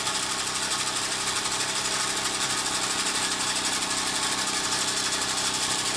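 A Red Devil engine runs on a bench with the wheels disengaged, a loud, steady, buzzing drone holding constant from start to finish at close range.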